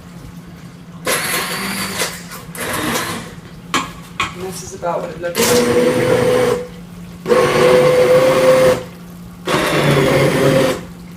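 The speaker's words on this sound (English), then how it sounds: "we're actually going to liquefy it in this immersion blender" An immersion blender whirs in several bursts of a few seconds each, liquefying bacon jam, loud and close, with a brief spoken line between the first runs.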